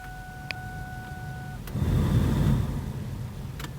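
A 1994–2004 Mustang's blower motor, running on low, whirs steadily, rising under a low, droning hum, swelling briefly before settling back, with faint clicks and a short high tone early on.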